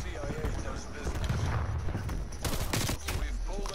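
XM4 rifle fire in Call of Duty Cold War, fast bursts of shots up close with a louder stretch near the end, layered over game noise.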